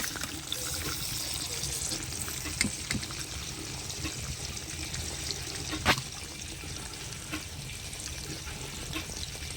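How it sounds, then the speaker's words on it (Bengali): Eggplant pieces shallow-frying in hot oil for a Bengali eggplant pickle give a steady, close sizzling hiss with a few sharp pops and crackles throughout. "জাস্ট একটু নরম করার জন্যে ভাজা"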